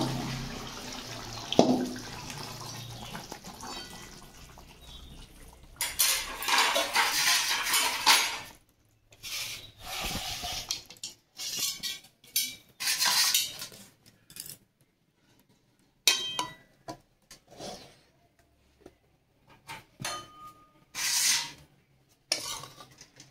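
Hilsa fish and brinjal curry with a little gravy is poured from a pan into a serving dish, with a wet pour and slide of curry, followed by intermittent scraping of a spoon against metal and clinks of cookware, close by.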